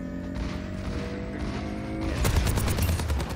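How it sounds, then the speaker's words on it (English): Soldier 76's rifle in the video game Overwatch fires in rapid, crisp bursts. A low game hum comes first, then a dense stream of loud shots fills the second half. "trying to shoot the Kiriko there through the wall too"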